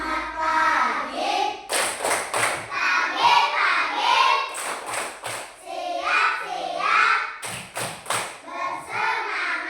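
A primary-school class of young children performs the 'tepuk selamat pagi' clap chant, with bursts of rhythmic group clapping mixed with children's chanting voices in a classroom.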